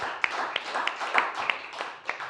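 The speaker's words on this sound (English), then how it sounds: "One more round of applause for Jasdeep, please." Audience applause at a poetry festival, a sparse crowd clapping with sharp, uneven hand claps rising and falling over a steady patter, fairly close and moderately loud.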